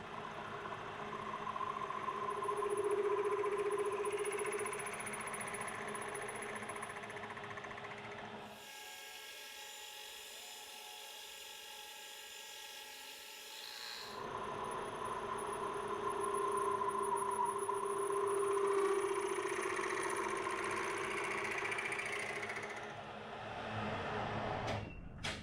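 Lathe boring a worn bore on a Cub Cadet part ready for a new bush, the cutting tool chattering as a steady harsh metallic whine that runs, stops for a few seconds, then resumes loudly.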